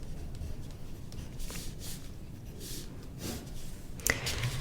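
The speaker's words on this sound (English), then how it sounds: "I'm gonna write self-trust" Pen strokes scratch across a sheet of folded paper in a few soft, brief bursts, close and quiet against a faint background hiss.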